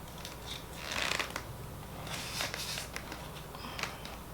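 Scissors snip away the piece wrapped around the Velcro-tied straps of a Telfar small shopping bag, a few quiet crisp cuts with rustling in between, close and alone.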